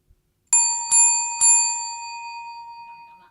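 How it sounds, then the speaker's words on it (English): Timer bell marking the end of speaking time at an accountancy election forum, struck three times in quick succession, each clear metallic ring overlapping and sustaining into a long fading tone, alone in a quiet room. "we will have a bell that will ring. It will give 3 rings"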